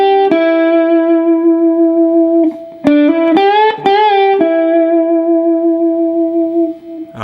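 Clean, sustained electric guitar playing two licks from a song's guitar solo: long held notes with slides and bends in the middle, close and clear with light echo and no voices.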